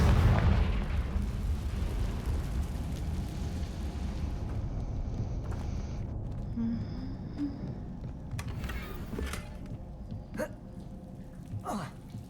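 A Confringo fire-blast spell explodes in Hogwarts Legacy, a loud opening boom that decays into a long rumbling tail, followed by scattered later cracks and pops.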